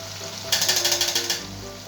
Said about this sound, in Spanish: Ahora, aparte, en aceite caliente, pondremos estas berenjenas a freír.